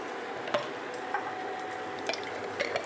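Spices frying in oil in a pan for Bengali shahi mughlai aloo dum, a soft steady sizzle broken by a few sharp scrapes and taps as they are stirred, quiet and close.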